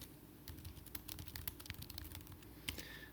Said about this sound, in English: here's what it looks like when I type in something